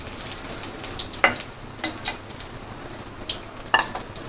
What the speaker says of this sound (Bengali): রসুনটা হালকা একটু ভাজা হওয়ার পরে